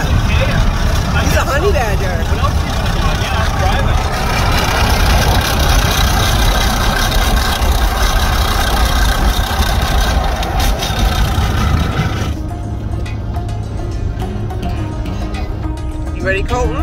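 Steady engine drone from a car towing a toy hauler cargo trailer with a mobile welding rig on a road trip, loud and continuous from inside the cab, with people talking over it.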